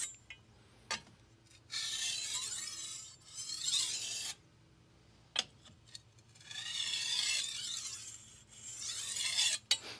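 A vintage 8-inch Victorinox knife of hard stainless steel is drawn across a 1000-grit whetstone with light pressure. Long, soft scraping strokes come and go at a steady pace, with brief pauses and a few small taps between passes.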